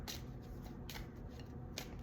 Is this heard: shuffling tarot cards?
yes